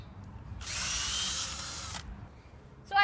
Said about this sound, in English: I'm just gonna drill a few holes.